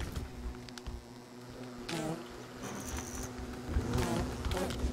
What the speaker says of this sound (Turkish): Niye o kadar arı soktun içeri?